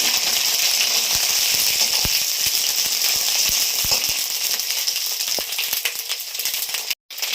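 Hot oil sizzles and crackles steadily as potatoes fry, with sharp popping bursts, loud and close, easing slightly toward the end.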